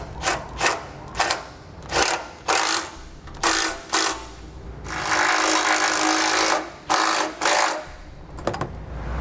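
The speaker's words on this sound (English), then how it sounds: "Now we use a 17mm socket to tighten these bolts down." A 17mm socket on a ratchet tightens bolts into weld nuts in a 2017 Coachmen motorhome frame while a Roadmaster Reflex steering stabilizer is fitted: repeated short bursts of rapid clicking, close and fairly loud, with one longer run in the middle.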